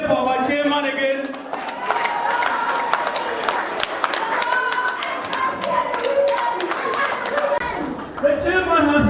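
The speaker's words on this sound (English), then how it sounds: "Can we cheer for our chairman again?" A crowd at a palace reconstruction fundraising event claps and cheers for the chairman, a steady wash of applause mixed with voices and a speaker talking over the top.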